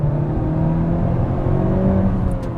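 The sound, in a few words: 2020 Honda Civic Type R downshifting and accelerating at full throttle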